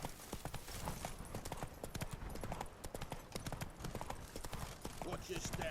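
A horse's hooves clip-clop in a steady, rapid rhythm in The Witcher 3 video game, close and continuous, with spoken dialogue over the top.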